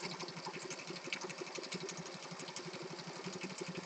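A sewing machine set to zigzag stitch runs continuously nearby with a quick, even mechanical chatter, steady and fairly quiet, with no voices.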